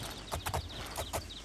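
Horse hooves clop on the ground in Oblivion, a few close, hollow thuds in an uneven walking rhythm over a low background hum.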